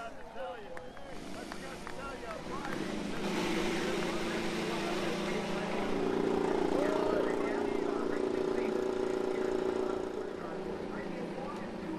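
IndyCar race car engines fire up on the grid at Mid-Ohio for the Honda Indy 200, a broad sustained roar swelling from a low rumble to a loud steady drone, with crowd noise and voices mixed underneath.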